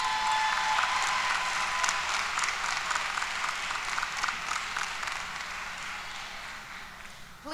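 Sustained applause from a large audience at a university commencement ceremony, dense steady clapping that fills the space and slowly thins toward the end, with no voices over it.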